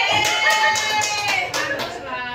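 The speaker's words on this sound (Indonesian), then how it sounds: "Alhamdulillah tepuk tangan." A few people clap hands at a teacher training session in a school, a light, scattered patter of claps under a sustained sung or hummed tone, with speech-like voice layered over it.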